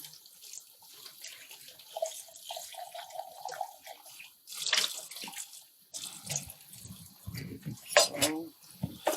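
Running water rinses nitrocellulose cotton in a lab setting, with intermittent splashing and gurgling bursts and some clattering, close by, while a voice talks briefly in between.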